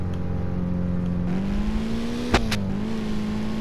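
A car driving on a highway, its engine droning steadily and rising in pitch, with a couple of sharp exhaust pops close together partway through.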